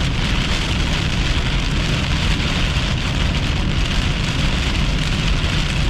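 Heavy rain during a thunderstorm chase in June, a dense and constant hiss of drops striking a surface close by, steady for the whole stretch with no voices.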